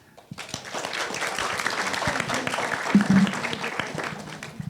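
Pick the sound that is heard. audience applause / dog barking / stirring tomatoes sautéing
audience applause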